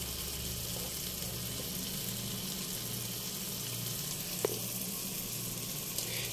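Garlic sizzling in a hot pan, a steady fine crackle at moderate level with a faint hum underneath and one brief clink near the end.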